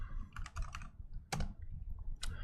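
Keys clacking on a ThinkPad T61P laptop keyboard as commands are typed, a close, quiet run of keystrokes in short clusters with brief gaps and no talking.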